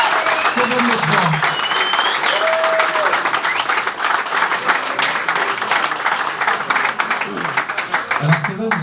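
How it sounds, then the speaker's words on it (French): An audience applauds the sportsperson of the month winner at a sports awards ceremony, with steady, dense clapping filling the room throughout while a voice speaks briefly over it now and then. "je voudrais qu'on l'applaudisse très très fort"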